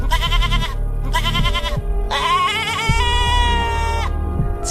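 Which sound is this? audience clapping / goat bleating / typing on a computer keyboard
goat bleating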